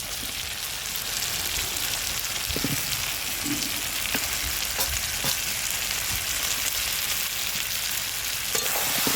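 Raw potato chunks sauté with mutton in a pan for a village-style mutton curry, a loud continuous sizzle and crackle with occasional stirring knocks throughout and no voices.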